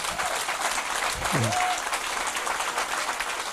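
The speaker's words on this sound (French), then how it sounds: "Applaudissez le Seigneur" Church congregation applauds during a healing testimony service, a steady wash of many hands clapping at moderate distance, with a brief voice rising over it partway through.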